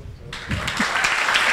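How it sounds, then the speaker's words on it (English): Audience applause rises after a talk at an event, a steady broadband patter of many hands that builds and holds through the short moment. "And a round of applause."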